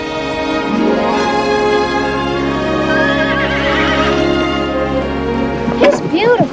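A horse whinnies in a long, loud neigh that rises and wavers over several seconds close by, ending with a few sharp higher calls.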